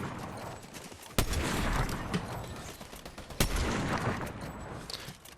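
Rapid gunfire in the video game Fortnite, a weapon-practice custom match: two sharp, loud shot onsets with sustained rattling fire and reverberant action between them, continuous over a busy game soundscape with no talk.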